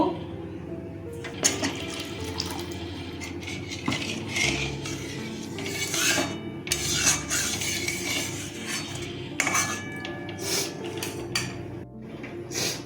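Water poured into a pan for a fish curry made with mustard paste, a steady splashing pour with clinks of utensils against the pan, continuing close and moderately loud.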